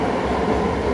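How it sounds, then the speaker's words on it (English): Continuous rumbling roar of a moving airport shuttle train at Heathrow, steady and fairly loud, with no voices. "So now on the train heading to Terminal 2 and 3"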